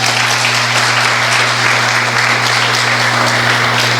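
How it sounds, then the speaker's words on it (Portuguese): A church congregation claps and applauds steadily for a visiting pastor, a dense, loud, unbroken wash of hands with a low steady hum beneath it. "vamos aplaudir o Senhor Jesus pela vida dele"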